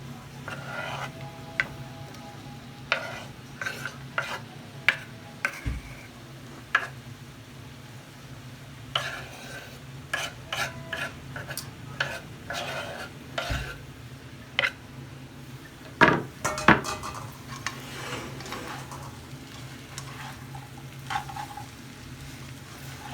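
Peppers and onion are stirred into green banana fries frying in a pan, giving a steady sizzle broken by repeated scraping and clacking strokes of the utensil.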